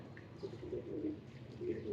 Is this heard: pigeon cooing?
yes